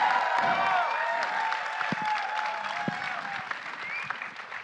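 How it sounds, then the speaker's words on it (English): An audience applauds at the Ramayana teaser launch event, a sustained round of clapping and cheering with a faint tonal backdrop beneath it, fading slightly toward the end. "Come on, everyone, a louder round of applause."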